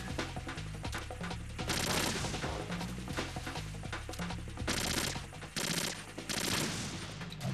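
Video game gunfire from Metal Gear Solid 2, a dense, continuous fusillade of rapid shots layered with loud game music and effects, steady and close throughout with no talk.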